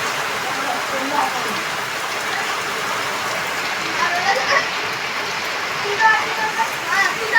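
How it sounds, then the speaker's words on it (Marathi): Light rain keeps falling in a Konkan village after a heavy half-hour downpour, a steady close patter and hiss with scattered louder drips, and no voices. "खूप पाऊस पडलाय आणि अजून बारीक बारीक पडतोय."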